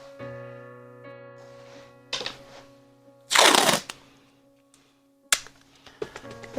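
Tape is torn off a roll and pressed onto a painting in an artist's studio, with several sharp ripping bursts, one long loud pull, and short crackles heard over a steady background hum.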